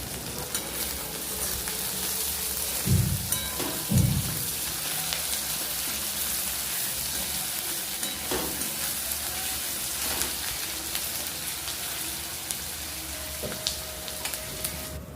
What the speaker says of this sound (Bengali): পেঁয়াজটা দেখো ভাজা ভাজা হয়ে গেছে